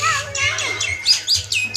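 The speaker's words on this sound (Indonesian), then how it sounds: "Ini burung jalak. Jalan. Jalak putih, jalak belong." A white starling at a zoo gives bright, rapid chirps and whistled calls in a quick series, close and fairly loud, with children's voices mixed in.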